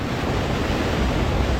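Broad, steady wash of open-water waves and swells on Chesapeake Bay, a continuous rushing surf with wind buffeting the microphone and no voices.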